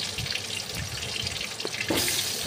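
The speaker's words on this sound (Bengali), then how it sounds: "আস্তে আস্তে আলুগুলো ছেড়ে দিলাম তেলে।" Potato pieces fry in hot mustard oil in a wok with a steady, close, broadband sizzle. A brighter, louder hiss surges near the end, with no talking.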